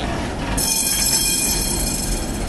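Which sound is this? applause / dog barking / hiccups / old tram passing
old tram passing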